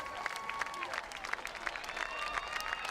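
Spectators at the Mount Marathon mountain race in Alaska clap and cheer for runners in a steady spatter of applause, with a voice talking over it.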